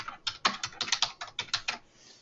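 Email addresses are typed on a computer keyboard in a quick, uneven run of about a dozen crisp key clicks, close and clear, with no talking.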